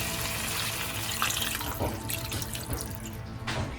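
About two cups of water splash steadily into a pot for a few seconds, a running, gurgling pour without any voices.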